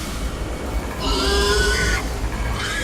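Tonal pig grunts and squeals from the game Amnesia: A Machine For Pigs play for about a second, with a fainter squeal after, over a low electronic hum.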